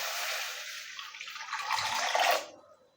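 A glass of water is poured into a cooking pan to set up steaming raw mangoes; a steady, close splashing pour runs about two and a half seconds, then stops.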